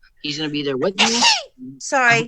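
A single sharp sneeze bursts out in the middle of a man's speech, loud and close, and he keeps talking right after it.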